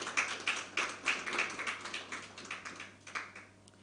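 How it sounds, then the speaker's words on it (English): A small panel audience claps at a law roundtable, a few distinct, fairly quiet claps in a loose rhythm that thin out and fade over a few seconds, with no talking. "round of applause for Mr."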